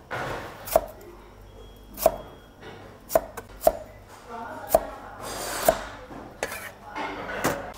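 A kitchen knife slices ginger on a cutting board. There are about eight crisp, separate chops, spaced irregularly and close by, over a quiet background.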